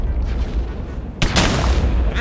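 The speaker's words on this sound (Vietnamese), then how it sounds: "Vanh, đứa bắn súng ngắm hơi bị chuẩn đấy." Sniper rifle fire in a Minecraft capture-the-flag bomb survival game, a single sharp loud shot cracking in partway through over steady background game noise.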